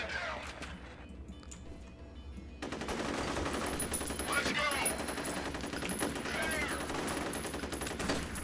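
Automatic gunfire in the first-person shooter F.E.A.R. from an enemy firing from the hip, a dense, sustained rattle of rapid shots that continues after a brief quieter stretch at the start.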